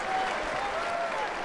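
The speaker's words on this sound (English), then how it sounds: "Calling for the roar of the approval of the crowd" Arena wrestling crowd claps and roars its approval in a dense, steady burst of applause, loud and continuous with no break.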